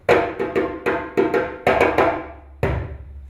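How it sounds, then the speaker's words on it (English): Sharp djembe strikes in the master drummer's stop rhythm in 4/4, a syncopated pattern of about ten hits with slaps and bass tones, ending on a final ringing stroke. "So this is the master drummer's stop rhythm in 4/4."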